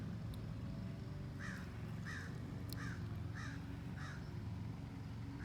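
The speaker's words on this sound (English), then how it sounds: "that bird is very loud" A crow caws repeatedly, about five evenly spaced calls at a moderate distance over a steady low outdoor rumble.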